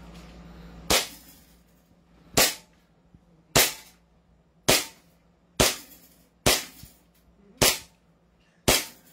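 A Hi-Capa airsoft pistol fires eight sharp, snappy shots at roughly one-second intervals, each a crisp crack with a short decay, heard alone against a quiet outdoor background.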